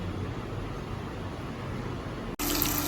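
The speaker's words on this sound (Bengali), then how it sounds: "তো মাছটা আগে জলে ভিজিয়ে রাখি।" Water running steadily from a tap to soak fish, a continuous close splashing rush that cuts off abruptly near the end, followed by a brief brighter clatter.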